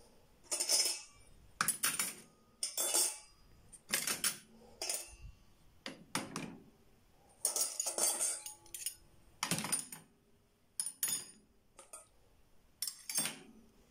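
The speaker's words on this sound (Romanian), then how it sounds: "Aici pun tacâmurile." Metal cutlery clinks and rattles in bursts as pieces are dropped into a Beko DFN16410X dishwasher's cutlery basket, irregular clattering with short pauses, close and fairly loud, no talking.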